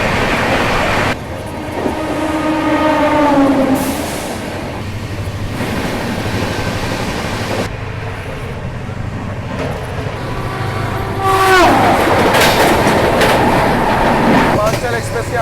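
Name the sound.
Swatantrata Senani Superfast Express train running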